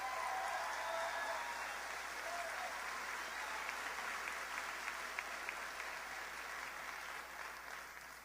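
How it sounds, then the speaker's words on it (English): A crowd at a New Hampshire primary-night political rally applauds steadily, a continuous wash of many hands clapping at moderate distance with no break. "Give her a big round of applause."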